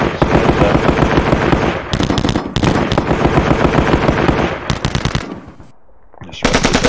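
Gunfire in the Sealion '40 wargame by John Tiller Software, loud rapid bursts of machine-gun fire repeating in long volleys with brief gaps and one short quiet pause before firing resumes.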